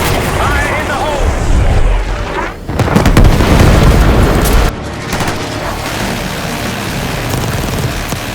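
Heavy booming blast in the Call of Duty Black Ops 6 video game, loud and close, followed by rumbling debris and a continuous battlefield roar, with brief shouting voices.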